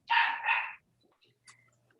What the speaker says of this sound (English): he's just started this barking stuff